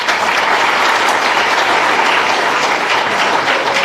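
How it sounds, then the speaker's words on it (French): Political rally audience in Côte d'Ivoire applauding, a dense, steady wash of loud clapping sustained throughout with no talk over it. "Vous pouvez vous applaudir encore."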